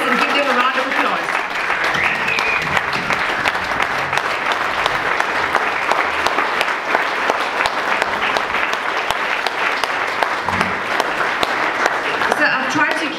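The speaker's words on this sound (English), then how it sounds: "Please rise and give them a round of applause." Wedding guests rise and applaud the newlywed Mr. and Mrs. Sewpersadh at an Indian wedding reception in South Africa, with sustained, loud, dense clapping running for over ten seconds and voices mixed in.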